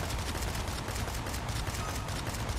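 Rapid automatic AK rifle gunfire in a video game, a dense continuous rattle of shots at steady loudness throughout with no talk.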